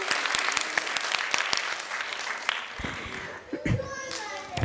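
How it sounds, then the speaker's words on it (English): Audience applause at a school annual concert, a crowd of parents and children clapping loudly with sharp distinct claps, thinning out midway as children's voices and chatter rise beneath it. "Huge round of applause for him"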